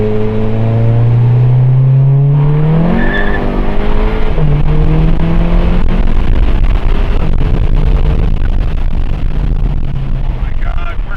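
A turbocharged VW GTI with a new CTS turbo and intercooler, on stock tires, accelerates hard with rising engine pitch, shifts and tire noise, heard loudly from inside the car while occupants talk over it.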